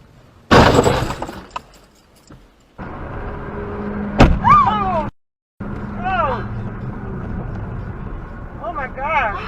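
Rush-hour dash cam crash: a car swerves into oncoming traffic after a brake check, with a sudden loud impact and glass shattering near the start, then an engine running on under a later burst of breaking noise and startled voices.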